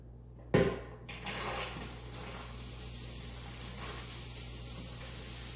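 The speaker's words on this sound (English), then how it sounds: "I think you can hear how it's sizzling" Aromatic vegetables dropped into hot olive oil in a soup pot, a sharp burst as they hit the oil, then a steady sizzling hiss that holds evenly, close and fairly loud.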